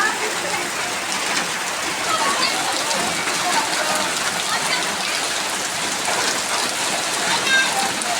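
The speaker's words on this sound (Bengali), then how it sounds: "বৃষ্টি দেখুন কত জোরে জোরে বৃষ্টি" Heavy rain pouring down outside near a kitchen, a steady, dense, loud hiss of drops on surfaces filling the whole stretch without a break.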